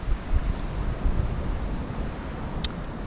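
Sea water crashes against rocks at Tenby in Pembrokeshire, a broad steady roar of surf heard from high above the shore, blended with gusting wind noise.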